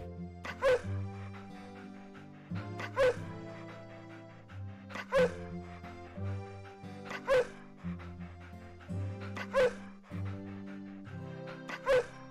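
In the video game Maki's Adventure, a small dog barks one short yip roughly every two seconds. The barks are repeated, close and clear, with soft game music playing steadily underneath.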